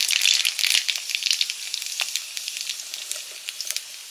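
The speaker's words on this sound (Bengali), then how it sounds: "সর্ষের তেল দিয়ে শুকনো লঙ্কা ফোড়নে দিয়েছি" Dried red chillies and black cumin sizzle in hot mustard oil, a bright crackling hiss that starts loud and settles into fainter spitting pops, with no talk.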